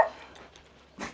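A dog gives two short barks at a bathing spot in the Bhor ghat hills, a sharp one at the start and another a second later, fairly close and alone.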